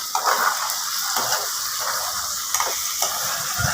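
Food frying in a pan, a steady close sizzle with occasional stirring scrapes and bursts of spatter through the few seconds.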